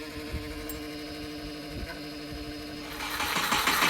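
A 2001 Subaru Forester engine, just rebuilt with new rockers, cranks and catches, its noise swelling louder and rougher over the last second as it fires and runs, with steady mechanical hum underneath.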